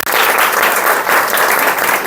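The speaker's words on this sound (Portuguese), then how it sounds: "Uma salva de palmas, por favor." Loud, dense applause from a school training audience, continuous clapping from many hands filling the short burst, with no speech over it.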